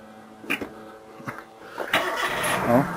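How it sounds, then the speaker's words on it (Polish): A car engine cranks and catches, a few short bursts of starter effort giving way to a steady running idle, close by and alone without talk. "Samochód, zapalił."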